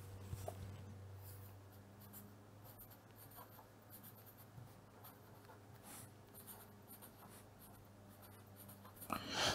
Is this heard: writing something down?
yes